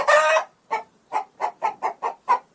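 Chickens cluck in a string of about nine short, close, clear clucks at a quick uneven rhythm, led by one longer, louder squawk, with silence between the calls.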